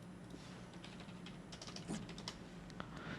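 Someone types on a computer keyboard during stock trading, a quiet, uneven run of soft key clicks that starts sparse and grows quicker and denser, heard alone with no talking.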